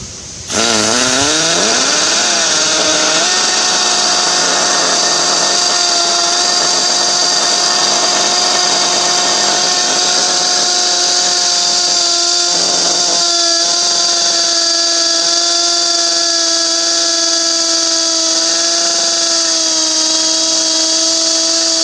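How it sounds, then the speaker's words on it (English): A Milwaukee hammer drill bores a hole into brick, its motor whining up to speed in the first seconds, then holding a loud, steady, close-up drone for about twenty seconds with no talking. "I'm going to try to use the Milwaukee hammer drill now to drill one more hole"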